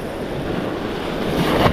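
Sea waves wash and churn around a small fishing boat offshore, a rough continuous whoosh with wind buffeting the microphone, swelling louder toward the end.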